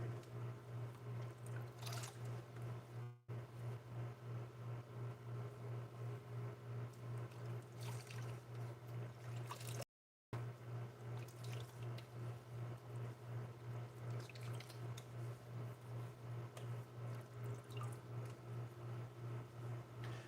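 Tap water runs steadily through a bathroom sink for a post-shave rinse, a constant hiss with faint splashes and a brief dropout near the middle, no talking.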